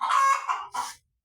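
A chicken on a farm gives a short, close, loud call in two bursts, a longer cry and then a quick second note, before falling silent.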